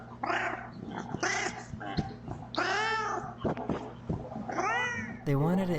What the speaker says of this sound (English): They wanted to introduce their new kitten to their older cat.